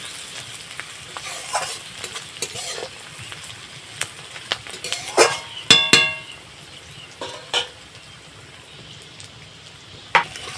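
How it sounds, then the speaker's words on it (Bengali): Onions sizzle softly as they fry until browned in a pan while a spoon scrapes and clicks against it in irregular stirring strokes. "আমি পেঁয়াজটাকে বাদামি করে ভেজে নেব"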